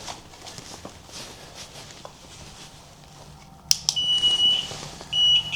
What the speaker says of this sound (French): Le K2, quand il s'allume, il fait toujours cette sonnette-là, c'est normal.